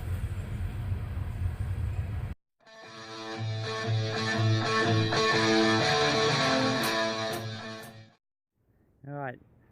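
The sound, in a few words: passing train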